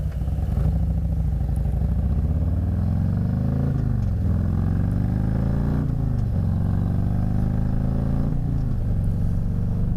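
A motorcycle cruises along a road during a partial solar eclipse, its engine droning steadily and loudly close up, with a few rising and falling shifts in pitch as the rider changes speed.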